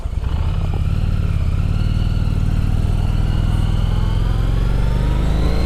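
Motorcycle pulling away on a hill, a loud close engine rumble with a low steady pulse, rising slightly in pitch as it moves off, with no talking.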